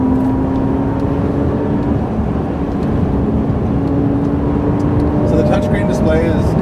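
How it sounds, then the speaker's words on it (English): A light electric whine from the motor and drive inverter of a new Tesla Model S, a steady thin tone sitting over road and cabin rumble while occupants talk. "that light noise, what is that? That's the motor and the drive inverter"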